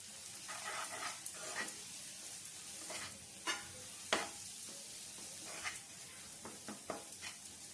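Spice masala of salt, chili powder and coriander powder frying on a pan for egg tawa masala, a constant low sizzle broken by repeated scraping stirs of a spatula, some sharper than others, close by.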